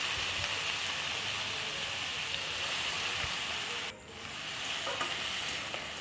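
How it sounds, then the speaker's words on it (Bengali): Banana peels frying in a pan, giving a steady close hiss and crackle of hot oil that dips briefly partway through and then carries on alone. "কলার খোসা ভাজা করে নেব।"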